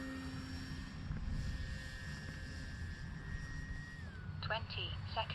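An E-Flite Commander RC model airplane on 3s power flies a go-around, its electric motor whining steadily overhead and then dropping in pitch near the end, with faint outdoor background and some nearby voices.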